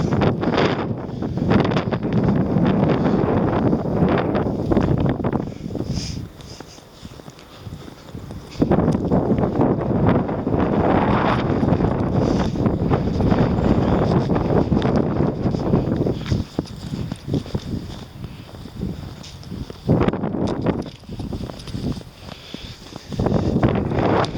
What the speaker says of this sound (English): That wind is actually getting up a bit.